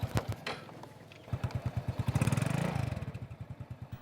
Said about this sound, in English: while her husband Basidi helps their eldest daughter fix her motorbike